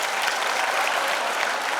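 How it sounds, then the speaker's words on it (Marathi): Loud, steady applause from a school audience for 10th grade students at an annual prize distribution ceremony at Godavari Secondary School, Shingve, Niphad, dense clapping throughout without talk. "त्या 10वीच्या विद्यार्थ्यांसाठी का जोरदार टाळ्या वाजवा."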